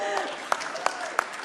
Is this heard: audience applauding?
yes